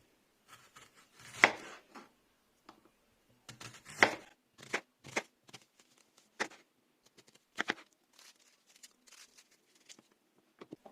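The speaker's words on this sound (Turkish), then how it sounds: "Şöyle büyük bir soğanı halka halka doğrayacağım." A large onion being sliced into rings on a cutting board while preparing stuffed grape leaves; irregular sharp knife chops, some louder strikes and lighter taps, close and clear with quiet gaps between.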